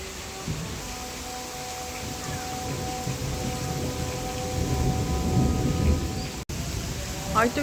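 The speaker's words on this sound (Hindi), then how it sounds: "आज तो इतनी तेज़ बारिश हो गया ना, सुबह से बादल गरज रहे थे।" Heavy rain falls steadily outdoors while thunder rumbles low and rolling beneath it, swelling louder toward the end, with a brief dropout near the close.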